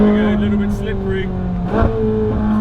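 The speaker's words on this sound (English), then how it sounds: "Those downshifts. What a sound." A Ferrari 458 Spider's engine drones with strong tonal harmonics, then blips sharply through a quick downshift near the end, heard from inside the car with a voice briefly over it.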